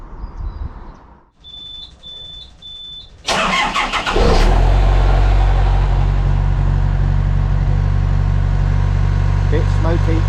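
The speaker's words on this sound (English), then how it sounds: "Let's go and see if the engine will start." A narrowboat engine that has not run for a while is started: short electronic warning beeps, then loud cranking, before it catches and settles into a loud, steady, rumbling idle close by.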